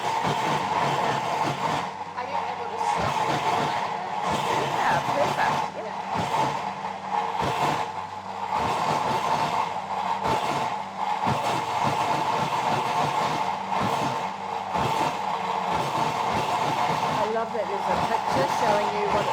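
A Thermomix kitchen machine chopping fruit gives a continuous whirring drone with fluctuating pulses throughout, with voices talking over it.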